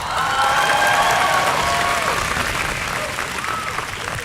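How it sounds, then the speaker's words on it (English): A crowd at a high school graduation applauds the school counseling team, steady loud clapping throughout, with a voice carrying over the start. "Let's give them a round of applause"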